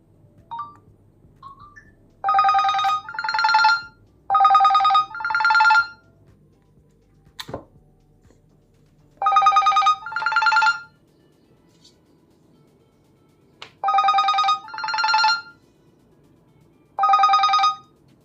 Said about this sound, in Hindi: ये है एंटी थेफ्ट अलार्म, इसे ऑन कीजिए